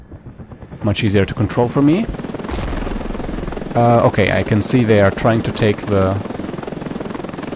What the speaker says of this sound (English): let's just take the helicopter